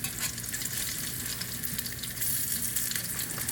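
Salmon patties fry in hot oil with a dense, continuous crackling sizzle, close and steady with fine pops and no voices.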